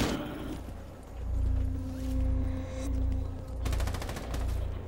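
Automatic weapon fire from the video game Rainbow Six Siege, sustained bursts of rapid shots rolling one after another, loud and close with a dense low rumble and no talk over it.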